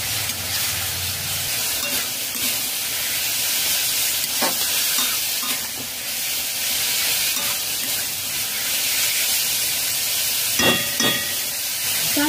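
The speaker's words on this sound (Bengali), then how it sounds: "টমেটো পিউরি দিয়ে মিডিয়াম ফ্লেমে 3 মিনিট কষিয়ে নিয়েছি" Tomato puree sautés on a medium flame for a spinach mushroom dish, giving a continuous bright, hissing sizzle with a few occasional stirring knocks.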